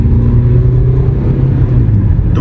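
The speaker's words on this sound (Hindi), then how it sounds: "इंजन की भी आवाज़ सुन रहे होंगे।" Tata Sierra 2025 diesel SUV engine while climbing a mountain road in D2, a steady loud low drone with road rumble and no talk.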